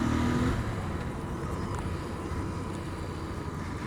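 A twin-cylinder Royal Enfield Interceptor scrambler ridden off-road along the Trans Czech Trail, a continuous, loud engine roar blended with heavy wind rush, with no speech.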